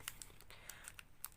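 A souvenir package from Hua Hin railway station is unwrapped, giving soft plastic crinkles and a few crisp little clicks and rustles, close and faint.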